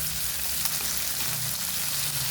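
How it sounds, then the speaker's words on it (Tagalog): Beef loaf sautéing in a pan, a steady close sizzle and crackle of frying meat with no voices, holding even throughout. "Ginisang beef loaf."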